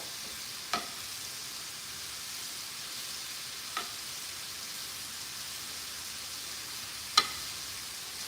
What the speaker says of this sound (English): All right, so this is just sizzling away.